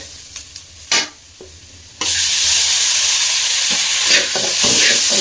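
Quiet clinks and scrapes, then a sudden loud sizzle as tomatoes hit a hot pan of fried onions, continuing as a strong steady fry with occasional stirring.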